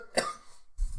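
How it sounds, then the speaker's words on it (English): A single quick cough bursts out up close, followed a moment later by a shorter, lower throaty sound, all within about a second. "They're coughing"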